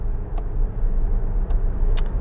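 A Tesla car accelerating on the road gives off a low, steady rumble of road and cabin noise, with a few faint clicks and ticks scattered through it.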